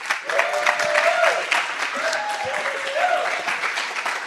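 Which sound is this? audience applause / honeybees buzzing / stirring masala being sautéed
audience applause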